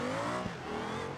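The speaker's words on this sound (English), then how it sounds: "The sound that this 3800 makes with a more or less open exhaust header" A 3800 engine with a nearly open exhaust header in the BeamNG.drive driving game, giving a steady, loud, raspy engine drone held at high revs throughout, with no talk.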